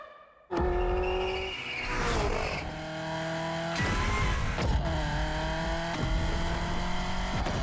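A Genti Accolone luxury car in The Crew Motorfest starts up and drives with a steady engine drone, rising and falling through gear changes, loud and close with no talk.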